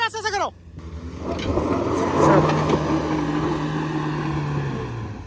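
A Mahindra Thar 4x4 engine labors while off-roading over dust and gravel, a close, rough, sustained drone that rises and then steadies, after a brief burst of voices at the start.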